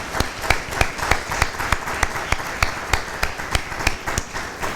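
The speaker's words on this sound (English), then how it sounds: "If you could join me in a round of applause" Audience applause at an international law society's midyear meeting opening reception, with a regular pattern of distinct claps over steady crowd noise.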